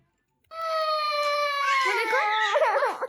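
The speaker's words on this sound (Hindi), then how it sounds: "इसके रोने की आवाज़ आना स्टार्ट हो गई और इसने रोना शुरू कर दिया" A baby, just woken up, cries close by: a long rising wail after a short silence, then breaking into wavering sobs and whimpers that continue to the end.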